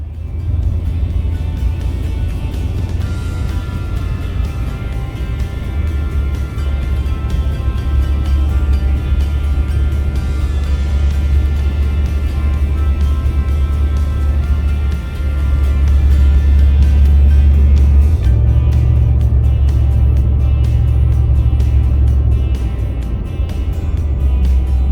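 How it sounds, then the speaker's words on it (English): A pickup truck engine idling and warming up on a frosty morning, a loud, close, steady low rumble that swells briefly in the middle and late stretch, running continuously for the whole length with no one speaking. "I had to start the truck and get it going."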